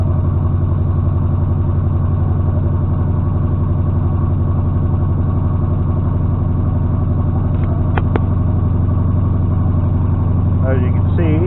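1979 Chevy K10 pickup truck with a carbureted engine running at a steady idle, a continuous low rumble close by, with someone talking over it and a few brief clicks near the end.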